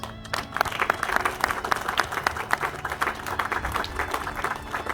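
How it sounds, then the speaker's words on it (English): Applause from the audience at a military brigade change of command ceremony, many hands clapping in a steady outdoor patter, moderately loud and sustained, with a faint voice early on. "Big round of applause, please."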